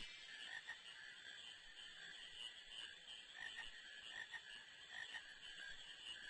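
Frogs croak in a marsh in Final Fantasy IX, a continuous chorus of rhythmic, overlapping croaks at low volume with no talk.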